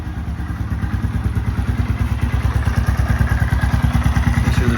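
A 2015 Honda Grom motorcycle engine idles steadily after an oil change, its close, loud, even exhaust pulse thumping in a fast regular rhythm throughout, with no talk.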